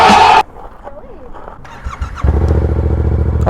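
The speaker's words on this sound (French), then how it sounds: "ça démarre ma moto comme ça" A motorcycle engine turns over and catches, settling into a loud, rough idle right up close after a brief sharp burst of noise.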